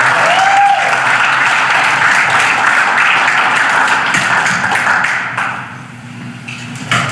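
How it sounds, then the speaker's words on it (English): Applause from an audience at a Lincoln Day political dinner event, a loud, dense and sustained roar of clapping that carries for several seconds before thinning out and fading near the end. "But join me in a round of applause for Steve and for all the wonderful kids."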